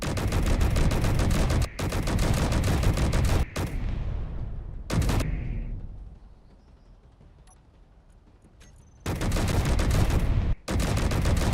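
Assault cannon turret in the Space Engineers video game firing loud, rapid continuous bursts. The fire cuts out into a quieter lull midway, then resumes.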